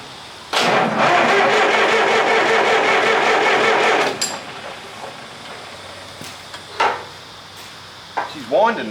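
A Massey Ferguson 35 tractor diesel engine cranks over with a loud rapid rhythmic churn for several seconds, then stops, followed by quieter clanks and a voice speaking nearby.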